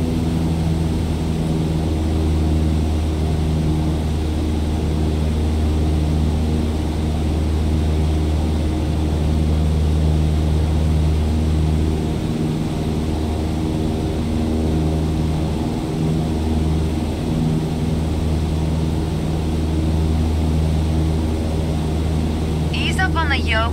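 A propeller airplane engine in Microsoft Flight Simulator, throttled back toward 2,300 RPM, gives a loud, continuous droning hum with a steady low rumble that carries unchanged through the whole stretch.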